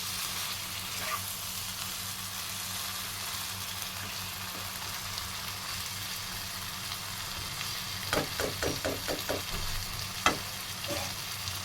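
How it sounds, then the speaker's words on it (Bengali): Chicken for a green chilli curry is sautéed in a pan, a steady sizzle running underneath while a quick series of spatula scrapes and knocks comes near the end, close up. "এইভাবে আমি মিনিট 10 এটাকে কষবো"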